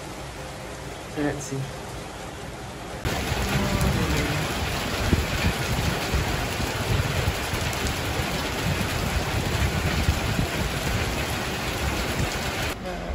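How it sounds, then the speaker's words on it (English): Heavy rain pours on Mount Kinabalu before a summit attempt, a dense steady roar that swells after a quiet start and persists, with a brief spoken remark early on. "But it's pouring right now. I hope the rain stops."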